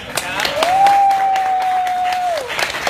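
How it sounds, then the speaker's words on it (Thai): Audience clapping for the cast at a press event for a stage musical, a wash of applause running throughout while a held sung or spoken tone sits over it in the middle. "ขอเสียงปรบมือให้กับนักแสดงทุกท่านด้วยครับ"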